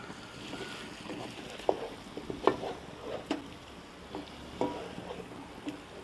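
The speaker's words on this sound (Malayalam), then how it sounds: "നമുക്കൊന്ന് ഇളക്കാം" Chicken vindaloo is stirred in a pan, with faint, scattered scrapes and clicks of the utensil over a soft background hiss.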